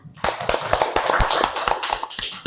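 Hands clapping together in a classroom, a dense, loud burst of many sharp claps from a group of pupils that runs on steadily and then thins out toward the end.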